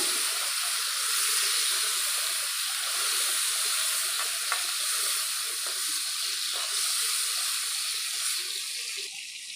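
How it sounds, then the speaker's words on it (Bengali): Fish frying lightly in hot oil gives a steady, moderately loud sizzling hiss that runs evenly throughout, with a few small pops and no voices. "ভেজে নেব মাছটা। হালকা ভেজে মাছটা আমি তুলে নিলাম।"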